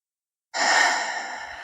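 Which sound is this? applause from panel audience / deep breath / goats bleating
deep breath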